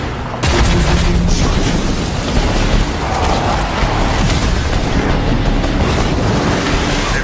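Hellfire Mortar firing in the post-apocalyptic shooter Rage 2, a loud continuous roaring wash of blasts and rumbling explosions filling the whole stretch after a sudden start.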